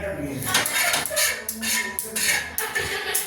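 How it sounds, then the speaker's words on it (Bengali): A metal spatula scrapes and clatters across a griddle in repeated short strokes as it is cleaned while making tal pitha, with faint voices in the background. "মা তাওয়াটাকে পরিষ্কার করে নিয়েছে খুন্তির সাহায্যে"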